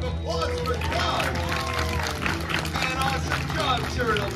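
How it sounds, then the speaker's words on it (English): An audience at Turtle Talk with Crush at Disney California Adventure applauds and cheers, a steady wash of clapping and crowd noise heard under a performer's voice throughout. "how about a big round of applause for God?"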